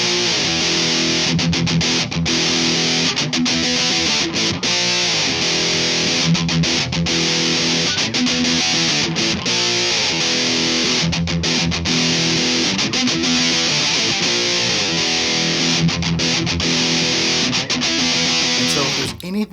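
A heavily distorted electric guitar plays through a DOD Grunge distortion pedal, sustained chords and riffs, loud and saturated, with brief chugging breaks between phrases.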